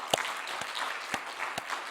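A Korean church congregation at a Sunday worship service applauds its praise team, with a soft, even wash of crowd clapping and a few louder individual claps cutting through, fairly distant.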